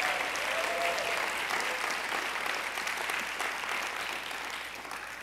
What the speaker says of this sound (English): let's give a big round of applause to Minister Tracy and his lovely wife who are here with us this morning